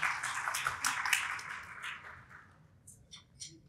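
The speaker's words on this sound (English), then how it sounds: "allow me just to give another round of applause to all our panels here." Audience applause for a panel at an education technology conference, a burst of scattered clapping that is loudest at the start, then thins out to a few faint, separate claps toward the end.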